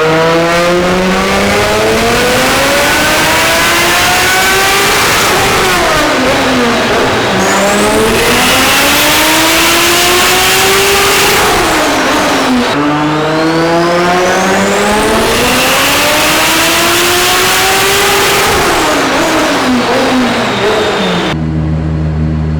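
A Mazda RX-7 FD rotary engine screams through repeated loud full-throttle dyno pulls on a Dynojet, each climbing sharply in pitch, dropping back and rising again, steady and close for the whole run.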